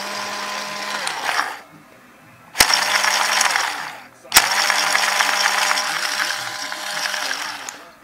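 A Dye Rotor paintball loader whirs with a steady mechanical buzz, cutting out briefly before starting up twice more with sharp clicks, running close and fairly loud.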